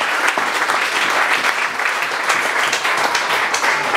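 A church congregation at a Sunday worship service with communion applauds steadily, dense clapping filling the whole stretch at a constant loud level with no talk.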